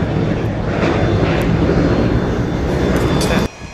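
Jet engines of an MD-83 airliner roar loudly as it departs Atlanta, a dense, steady rumble that holds close and strong before cutting off abruptly near the end.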